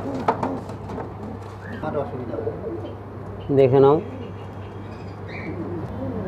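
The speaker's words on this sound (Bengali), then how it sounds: "আর এদিকে আছে কিছু পাপোস পায়রা" Papos pigeons in a Medinipur bird and aquarium shop give a soft cooing call, with one clear close coo midway among faint chirps from other birds, while a person talks briefly nearby.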